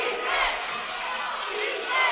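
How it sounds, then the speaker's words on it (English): A basketball arena crowd cheers and roars after a three-pointer in a college game between the Cards and Navarro, a dense sustained wall of shouting that swells at the start and again near the end. "Brandon Holly gets the crowd on their feet"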